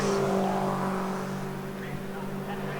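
An MG race car approaches along the track at Oulton Park during an MG Owners Club race, its engine droning steadily at moderate distance with a commentator talking over it.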